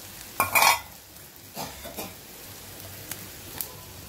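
Green chili and fresh coconut paste being stirred in a pan with turmeric while making radish fry, with a few close scraping strokes over a soft, steady sizzle.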